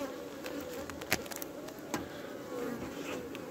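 Honeybees buzz steadily at an open backup hive during a pre-harvest inspection in a dry July, a dense close hum broken by a few sharp clicks and knocks from the hive frames.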